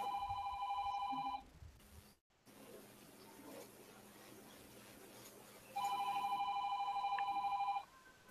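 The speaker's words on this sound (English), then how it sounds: "Hello, phone call." An incoming-call phone ring sounds as a steady electronic trill for over a second, breaks off, then returns for about two seconds after a stretch of background noise, moderately loud and unaccompanied by talk.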